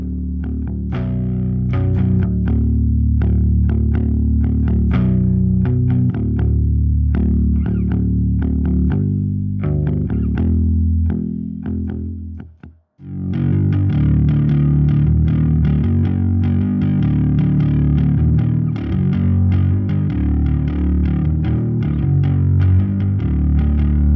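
Electric guitar played through fuzz, overdrive, reverb and chorus effects, thick distorted chords ringing loud and sustained, with a brief drop to near silence midway before the full wall of guitar returns.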